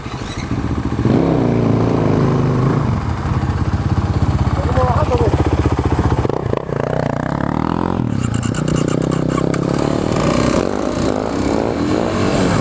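A dirtbike engine revs loudly and roughly inside an abandoned building, its harsh buzzing note rising and falling across the whole stretch, with scrapes and clatter around it.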